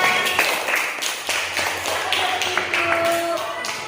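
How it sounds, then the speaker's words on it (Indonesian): Students in a classroom clap for a group, a few loose, uneven claps close by over a steady room murmur. "Ya, tepuk tangan."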